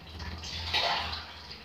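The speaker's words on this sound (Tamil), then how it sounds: "இப்போ இதுக்கு தேவையான தண்ணி ஊற்றிக்கோங்க" Water poured into a cooking pot while making quail gravy gives a steady, close splashing and gurgling pour, moderately loud and heard alone.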